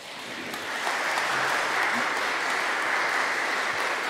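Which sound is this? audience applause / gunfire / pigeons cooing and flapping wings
audience applause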